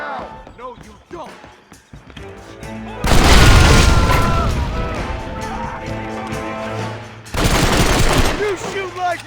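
Gunfire in the Red Dead Redemption western game: loud bursts of rapid shots and booming blasts, with heavy volleys starting a few seconds in and another burst near the end, mixed with shouting voices.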